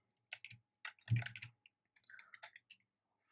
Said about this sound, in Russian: пишем